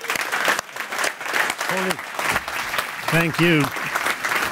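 Big audience applause fills a conference hall, steady and dense throughout, while a voice speaks briefly over the clapping near the end.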